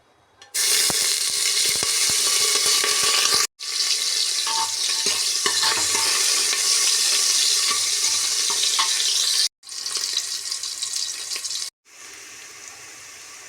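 Mutton fat sizzles loudly in hot oil in a pressure cooker, giving a dense, continuous frying hiss broken by a few abrupt short gaps. No one speaks.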